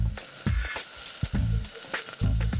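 Potatoes sizzle steadily in a hot pan, with soft stirring scrapes and clicks breaking through the crackle at irregular intervals.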